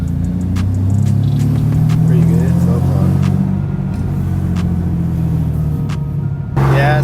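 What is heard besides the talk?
turbo Infiniti G37 driving with exhaust leaks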